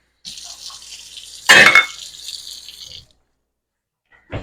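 Two cups of water pour steadily into a pot of dry quinoa, a continuous close splash with a louder burst of liquid hitting midway before the stream stops, alone with no talk.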